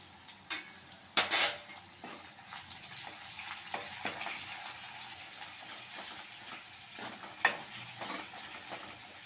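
Chopped onion sizzles and fries in a pan for dal palak, a steady crackling hiss punctuated by a few sharp clinks of a spoon against the pan, with no voices.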